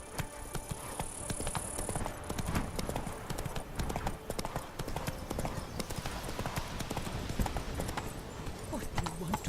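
A horse's hooves clip-clop steadily while being ridden in The Witcher 3, a continuous rhythmic patter mid-distance over ambient game sound, with some speech faintly underneath.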